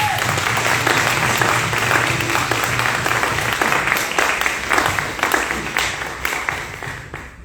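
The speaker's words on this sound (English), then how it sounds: "Please can we give them a quick round of applause." A room full of people at a charity's annual general meeting applauds the staff team with sustained, dense clapping that holds steady throughout, then thins slightly toward the end.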